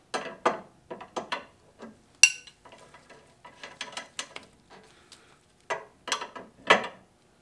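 A wrench ratchets on 15/16 bolts while traction bar bolts are tightened, producing short bursts of clicking pawl sounds separated by brief pauses and occasional metallic clanks, close and unaccompanied by talk.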